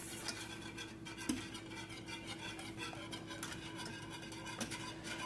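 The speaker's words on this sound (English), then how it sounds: "We're going to whisk the cheese in to our sauce." Steady, close scraping and swishing as a whisk stirs cheese into a sauce for baked ziti, with faint clinks against the pot throughout.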